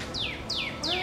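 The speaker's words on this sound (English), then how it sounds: "No, it's a mockingbird." A mockingbird sings outdoors, three loud, clear descending whistled phrases evenly spaced and close by, with no voices over them.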